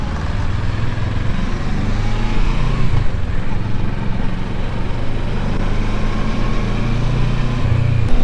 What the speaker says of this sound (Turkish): 650 cc çift silindir motor yani